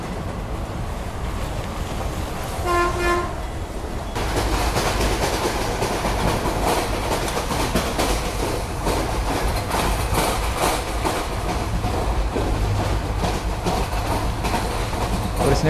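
A train on the Konkan line rolls into Udupi railway station, a loud, continuous rumble of wheels with rhythmic clickety-clack over the rails, preceded by a brief horn-like tone.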